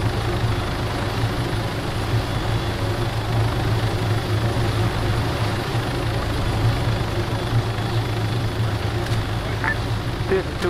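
Helicopter rotor and engine drone from the ArmA 3 video game, a steady low throbbing hum held throughout, with radio-style talk over it.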